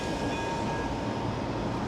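A tram rolls past by a seaside pier with a steady, close, broadband rumble and rail noise for a couple of seconds.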